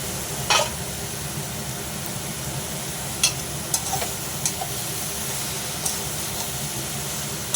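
A ridge gourd and lentil-fritter curry with green chillies sautés in a pan, giving a constant, dense sizzle with some steam hiss. Occasional clicks and scrapes of a spatula stir through it, close up, with no speech.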